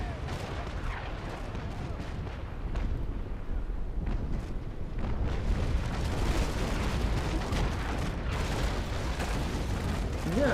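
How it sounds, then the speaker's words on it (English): Heavy 68-pounder carronades on a 2nd-rate battleship fire in the naval battle game Naval Action, a dense rolling barrage of deep booms and crackling blasts that fills the whole stretch without pause. "Now my 4 stern 68-pounder carronades shall fire. Fire."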